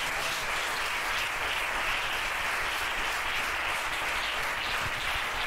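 A church congregation applauding together, a dense, steady wash of clapping that holds unbroken throughout, moderately loud and without speech.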